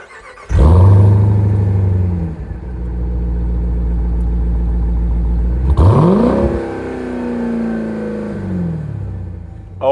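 Engine of a 2026 Dodge Durango SRT Hellcat cranks and fires up loudly, holds a rumbling idle, then revs sharply around the midpoint before settling back down, close and alone.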